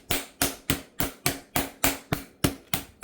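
A kitchen mallet pounding turkey breast flat for Thanksgiving, about ten sharp, evenly spaced thuds at a quick steady rhythm, loud and close, with no talking.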